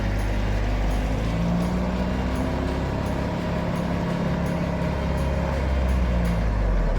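A Unimog truck creeping forward with the brake held and the clutch let out, a loud, steady low diesel drone and rumble throughout with faint rhythmic ticking above it.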